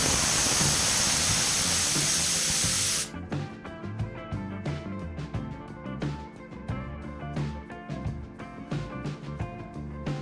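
A loud, steady hiss of steam escaping a pressure cooker whistle while cooking khandvi, lasting about three seconds, then it cuts off, leaving scattered light metallic clinks.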